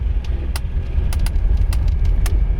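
A 1985 Mercedes 300CD drives on a wet road at about 40, with a loud low rumble of engine and tire noise and a few short sharp clicks or rattles over it.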